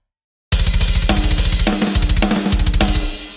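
Programmed GGD Invasion rock drum kit with timing randomized heavily off the grid, thumping fast kick drums under crashing cymbals and snare hits, loud and dense, starting abruptly after half a second of silence.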